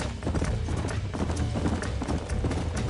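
Horse hooves clip-clop steadily and up close in Red Dead Redemption on PS5, a dense run of hoofbeats under a constant, loud rumble of game sound, with no talking over it.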